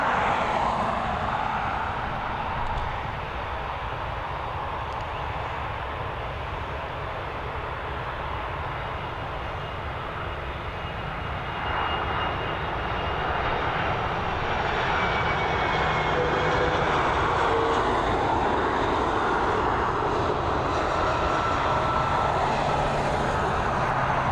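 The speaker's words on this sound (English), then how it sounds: "Nice to see a 767 coming in." A Boeing 767 on approach to land at Dublin Airport gives a steady, broad jet-engine roar, distant and continuous, that swells gradually toward the end, with no voices.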